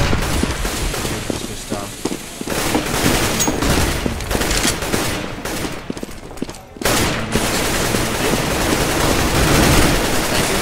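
Rapid bursts of gunfire in Counter-Strike: Global Offensive during a Melb Stars versus SiK grand final match, dense and continuous with a brief lull, under a commentator talking.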